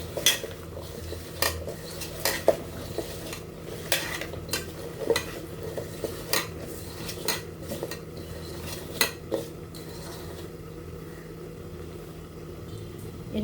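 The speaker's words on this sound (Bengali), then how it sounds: "এরপর ভালোভাবে মেখে নেব।" Spinach gets mixed by hand with salt and chili powder in a bowl: soft, irregular squelching and clinking strokes repeat every second or so, close and moderately quiet, with no speech.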